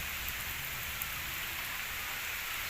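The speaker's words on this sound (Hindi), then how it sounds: "बारान रहमत शुरू थी गई है दे ज़बरदस्त बारिश" Heavy torrential rain falls in a steady, dense hiss with no pauses, moderately loud and with no voices.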